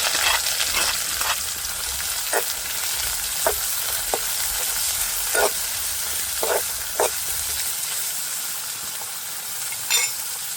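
Chopped chillies and onions frying in oil with mustard seeds, giving a bright steady sizzle with repeated spoon scrapes against the pan at uneven intervals, near and loud, with nobody speaking.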